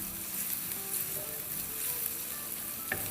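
Curry leaves dropped into hot oil with softened onions crackle and sizzle steadily at close range, fairly quiet, with one small clink near the end and no voices.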